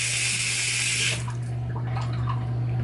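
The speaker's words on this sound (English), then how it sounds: "So like she'll fill up the water dish right here for the dog." A water tap runs into a dog's water dish, a steady close hiss over a low hum, with the splashing tone shifting and softening after about a second as the dish fills.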